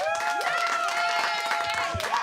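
A cheering sound effect played from a button, crowd cheers and applause filling the clip at steady volume, with people talking over it.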